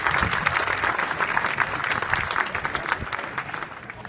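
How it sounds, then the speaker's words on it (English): Outdoor crowd at a building ribbon-cutting ceremony giving a steady round of applause, dense clapping that holds evenly for the whole stretch. "Let's give all of our welcome guests a round of applause"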